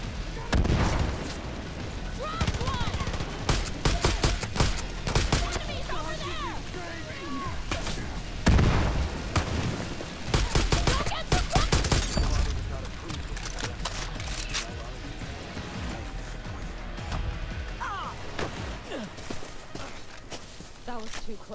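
Bursts of gunfire crack repeatedly in Far Cry New Dawn, mixed with footsteps and other game action while someone talks over the commotion.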